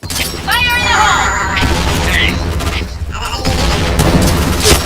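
Loud explosion booms from a Counter-Strike style shooter grenade blast, mixed with gunfire cracks and game voice callouts over a busy, dense soundscape.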